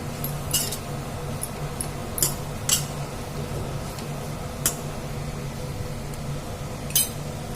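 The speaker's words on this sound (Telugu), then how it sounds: "చూడండి గోబీ వేసుకున్న తర్వాత ఒకసారి కలిపేసుకొని మూత పెట్టేసుకొని" Spoon clinking and scraping as cauliflower (gobi) fry is stirred in a pan, a few sharp metallic clicks spread over steady low background hiss, no voices.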